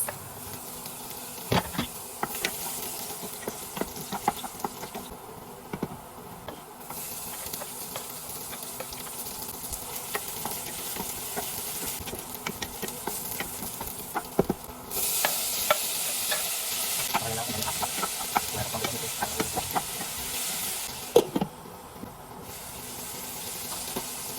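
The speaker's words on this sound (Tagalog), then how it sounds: "Nagpainit na nga siya ng mantika para maigisa yung bawang, sibuyas, pati na din yung kamatis." Garlic, onion and tomato sautéing in hot oil in a pan, a steady sizzle and hiss broken by the clicks and scrapes of stirring, close and clear with no talk.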